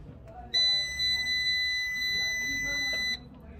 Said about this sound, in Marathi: पाच सेकंद झाल्यानंतर ना हा बीपचा आवाज बंद झाला की मग हा इन्व्हर्टर चालू करायचा.